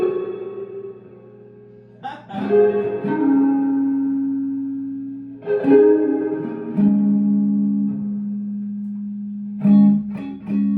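An electric guitar rings through a Fender Public Address Reverb amplifier with reverb off, in three strummed phrases, sustained chords with a dry, clean tone and pauses between.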